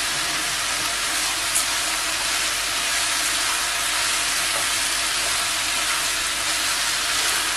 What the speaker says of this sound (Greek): έτσι, σοτάρουμε άλλα 3-4 λεπτά